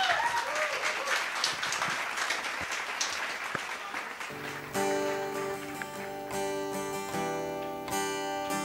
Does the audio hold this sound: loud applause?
yes